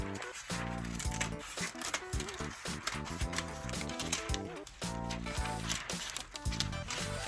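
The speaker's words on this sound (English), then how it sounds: "So you take your foil of choice and you're just gonna cut a strip." Scissors snip through a strip of metal foil in a quick series of crisp, close cuts with short crinkly rustles between them, steady and rhythmic with no voices.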